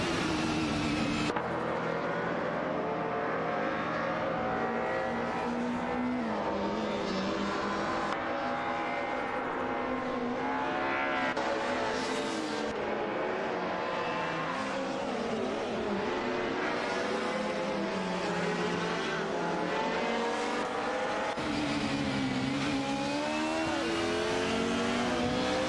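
Race cars accelerating out of a corner on a circuit, a continuous loud engine roar with rising and falling pitch sweeps as gears change, several cars overlapping throughout, no voices.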